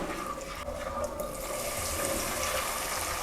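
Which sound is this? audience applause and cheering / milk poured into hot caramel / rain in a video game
milk poured into hot caramel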